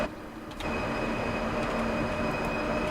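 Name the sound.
train running in Train Sim World 3 video game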